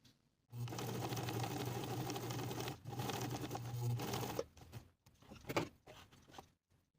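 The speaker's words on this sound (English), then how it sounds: "Baste with a 1/4 inch seam allowance from notch to notch" Sewing machine running basting stitches along an evening dress neckline, a close steady hum broken by a short pause, then stopping with scattered handling clicks and rustles.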